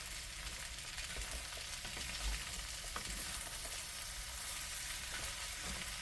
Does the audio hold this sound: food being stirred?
yes